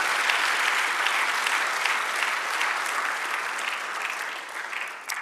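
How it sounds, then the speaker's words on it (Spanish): Congregation in a church service applauding steadily, a dense, even wash of many hands clapping that holds for several seconds and eases slightly toward the end, with no talking over it. "dale un aplauso"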